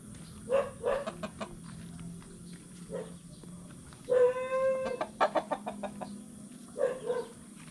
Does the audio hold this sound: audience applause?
no